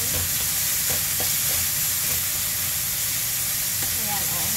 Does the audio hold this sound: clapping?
no